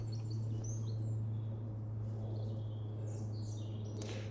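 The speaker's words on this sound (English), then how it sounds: "you guys can hear the birds" Wild birds sing beside the Monmouthshire & Brecon Canal near Bettws, Cwmbran: faint, scattered chirps and short warbles come from a distance over a steady low drone that persists throughout.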